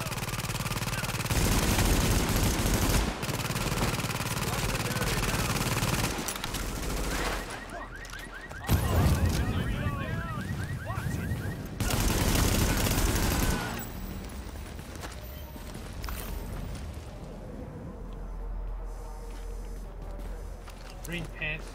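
Gunfire in The Division rattles in sustained, dense bursts of automatic shots at close range, easing off to quieter, sparser noise toward the end.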